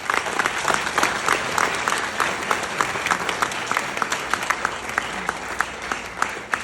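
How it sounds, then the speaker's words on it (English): A crowd claps steadily after an alumni award speech, a continuous even round of applause with crisp individual claps heard throughout. "Let's have another round of applause"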